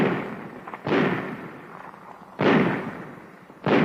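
A Thompson submachine gun fires full-automatic bursts: three loud, dense volleys of rapid shots, each cutting in sharply and trailing off, separated by short pauses, with no talking.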